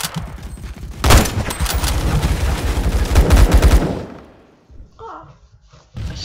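Rapid gunfire in the Roblox first-person shooter Phantom Forces, a dense burst of loud shots and thuds lasting several seconds, then a pause before another sharp report.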